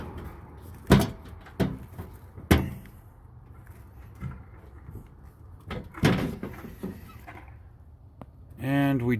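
Metal main power box door on an outdoor electrical panel being worked open: several sharp metallic clanks and bangs spaced across the clip, close and loud, with handling rattles between them and a person talking quietly alongside.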